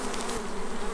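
Honeybees in an opened beehive during maintenance on an organic farm in Portugal drone in a steady, dense buzz close by, with no other sounds over them.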